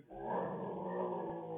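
A dog growls in one steady, rumbling stretch lasting under two seconds, fairly close and loud, with no talking over it.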